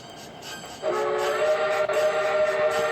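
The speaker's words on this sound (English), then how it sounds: "it sounded like a whistle. Another ghost train?" A train whistle blows a steady, sustained tone that starts abruptly and holds over a low rumbling rail background, fairly loud and uninterrupted.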